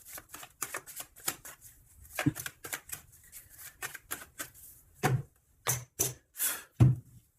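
A deck of oracle cards being shuffled and cut by hand, with quick, close riffling bursts and snaps that come in irregular clusters and then sharper separate slaps toward the end.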